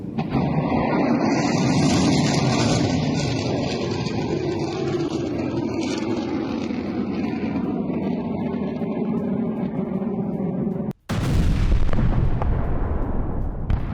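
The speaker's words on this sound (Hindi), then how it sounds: "ब्रैडली फाइटिंग व्हीकल से रूसी सेना पर अटैक विद वीडियो।" A Bradley fighting vehicle fires on Russian forces in news footage, heard as a loud, sustained roar of heavy gunfire and rumble that cuts off abruptly for an instant near the end and then returns just as strongly.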